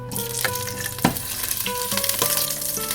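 Oil and a knob of butter sizzling in a hot frying pan at the start of a beef and chicken meat filling for Chilean corn pie, a steady loud crackling fry with a few stirring clanks and scrapes.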